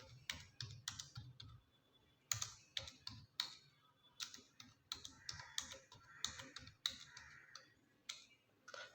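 Someone types numbers on a computer keyboard, a quick, close run of light key clicks in uneven bursts with short pauses, and no voice over it.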